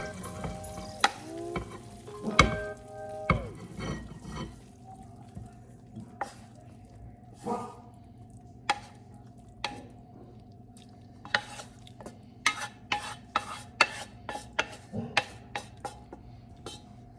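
A spoon stirs stock and rice sizzling in a frying pan, with scattered scraping and clinking strokes against the pan over a low, steady fry, close and fairly quiet.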